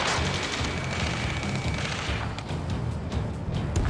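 Loud battlefield gunfire and booming blasts in Ace Combat 7, a dense continuous barrage with scattered sharp reports throughout and no voices.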